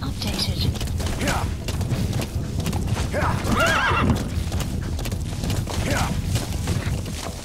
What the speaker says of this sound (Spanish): Corre, caballo, corre.